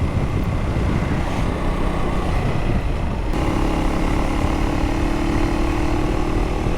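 A Husqvarna Svartpilen 401 motorcycle's single-cylinder engine pulls hard uphill in third and fourth gear, a steady loud drone under wind rush that shifts pitch partway through as the revs change.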